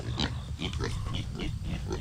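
Pigs in a farm paddock grunt in a run of short, close, repeated snorts over steady outdoor background noise, with no talking.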